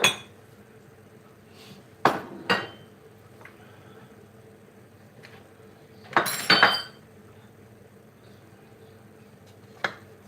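Kitchen items being shifted aside on a counter before cooking, a handful of separate clinks and clatters of dishes, cutlery and glass, with quiet gaps between.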